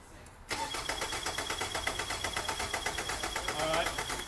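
A car engine cranks over on its starter during a battery cable voltage drop test, a fast steady whirring chug starting abruptly and continuing throughout, with a voice briefly heard.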